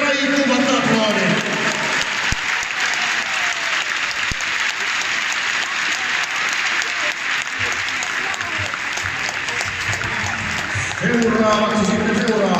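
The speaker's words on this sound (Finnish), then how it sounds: "Annetaan kaikille raikuvat aplodit!" Hearty crowd applause at a Finnish JHT ice hockey all-stars event, dense and continuous for about twelve seconds, with an announcer's amplified voice over it at the start and again near the end.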